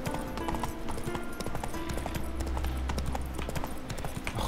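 Horse hoofbeats at a steady trot in the video game The Witcher 3 Wild Hunt, a continuous rhythmic clip-clop over a low ambient bed, moderately loud throughout.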